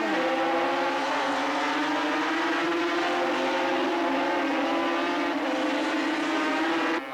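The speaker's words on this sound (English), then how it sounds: "Up over the top, Paviel has Robinson's measure as they charge down into GTX Bend" Racing motorcycles of the 350cc class at the 1983 Australian Grand Prix at Bathurst scream past in a sustained, loud, high-revving engine drone that holds steady throughout.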